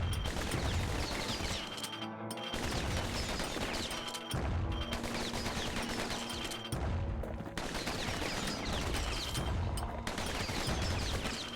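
Pistol gunfire in the video game Psychonauts 2, dense bursts of rapid shots and impacts with short pauses between volleys, loud and continuous with game effects layered in.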